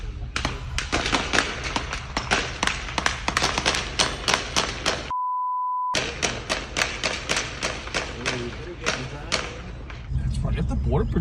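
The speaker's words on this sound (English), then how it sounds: "Barrage of gunfire captured in this video." A rapid barrage of sharp gunshots cracks out in dense bursts at a Border Patrol station, broken briefly by a steady tone, then the firing resumes at length.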